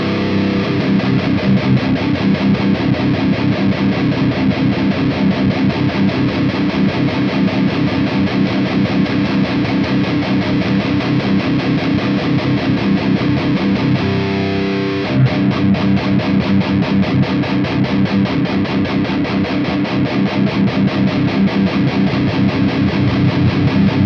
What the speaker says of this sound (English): I'll go through the 2-band EQ with the distortion as well as the gain.